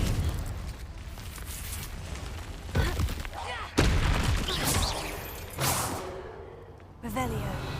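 The Confringo blast spell in the Hogwarts Legacy video game sounds as several loud whooshing bursts and booming impacts in quick succession over continuous game ambience, with a voice at times.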